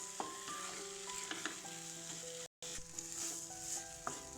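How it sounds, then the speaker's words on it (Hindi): A semolina and corn mixture fries in oil in an iron pan, giving a steady close sizzle broken by light scraping strokes of stirring, with a brief dropout midway. "एकरा लगातार मिलाइते रहबै, जाबे ई पेनी छोड़ऽ नहीं लागे लोहिया से"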